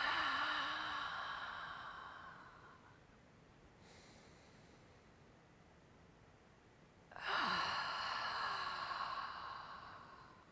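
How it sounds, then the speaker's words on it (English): Two slow, deep breaths, each an audible inhale followed by a long, airy exhale through the mouth, are heard close up, separated by a quiet pause. "And we exhale through the mouth. Let's do that breath a couple of times. Breathe in and breathe out."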